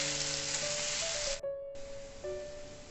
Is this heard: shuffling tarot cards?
no